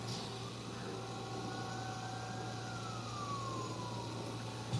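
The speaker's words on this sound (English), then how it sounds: "I don't know if y'all hear that police sirens" A distant siren rises and falls once over a steady low engine hum and background noise, faint and far off with no talk.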